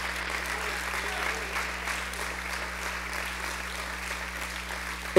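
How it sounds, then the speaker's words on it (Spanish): Church congregation at a Denver retreat applauds together, a steady wash of clapping at moderate level over a constant low electrical hum, lasting several seconds. "Demos una ofrenda de palmas al Señor."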